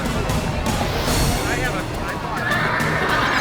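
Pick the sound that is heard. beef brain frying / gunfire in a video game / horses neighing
horses neighing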